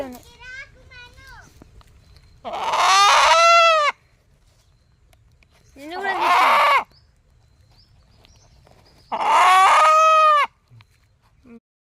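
A country chicken (natu kodi) gives three loud, drawn-out calls spaced a few seconds apart, close by, with quiet gaps between them.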